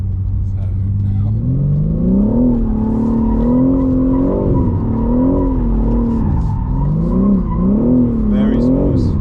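Red Bull DriftBrothers BMW M3 drift car on a hill: a loud, continuous engine rising and falling through repeated revs, with tire squeal and skidding underneath.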